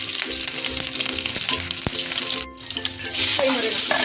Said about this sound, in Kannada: ಫ್ರೈ ಮಾಡ್ಕೊಳ್ಳಿಕ್ಕೆ ಪಲಾವ್ ಎಲೆನ ಹಾಕ್ತಾ ಇದ್ದೀನಿ.